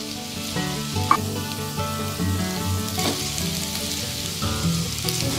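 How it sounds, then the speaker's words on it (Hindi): Ginger garlic paste frying in a pan with roasted cumin and coriander, a steady close sizzle with scraping stirs and an occasional spoon tap throughout. "इसे चलाते हुए भून लेंगे।"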